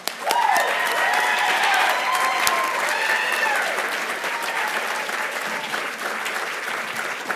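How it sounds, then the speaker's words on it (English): Sustained applause from an audience at a ceremony fills the space steadily, with scattered cheers and whoops riding over the clapping before it eases slightly. "Thank you for the applause, guys."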